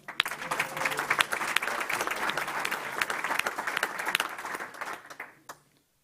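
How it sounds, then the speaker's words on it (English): Applause from an audience at a school board meeting, dense steady clapping that holds for about five seconds and then tapers off quickly to silence. "I know you just clapped a lot"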